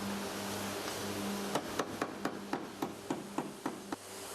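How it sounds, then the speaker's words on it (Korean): A hammer strikes the steel sheet-metal panel of an old, worn-out car body while it is welded and flattened, about a dozen sharp, evenly spaced metallic blows at moderate distance over a quiet workshop hum. "용접과 망치질을 반복하면서 철판을 평평하게 펴면서 붙여줘야"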